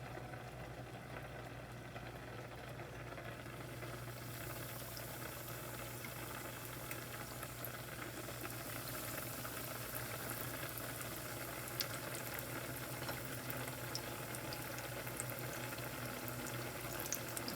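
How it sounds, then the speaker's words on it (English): Coated appetizers fry slowly in hot oil, a continuous soft bubbling hiss that holds steady throughout with no voices. "You want this to fry slow because you want them to be a golden brown."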